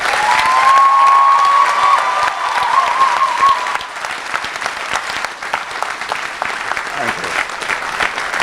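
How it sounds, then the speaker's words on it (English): Loud sustained applause at a university commencement ceremony in Grenada honoring a retiring dean, crowd clapping densely throughout, with a high whistle-like tone early on before the clapping thins slightly. "please give him a round of applause."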